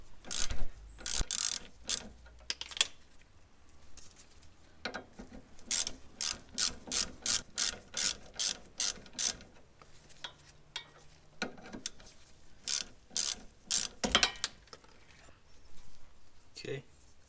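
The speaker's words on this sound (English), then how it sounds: "Now I'm putting a wrench up top here. It's a 14 on the stabilizer link" A ratchet wrench clicks in quick bursts of repeated ratcheting while loosening the 14 mm nut on a car's front stabilizer link, likely a sway bar end link on an Integra; the clicks are close and crisp with short pauses between strokes, and speech is heard in between.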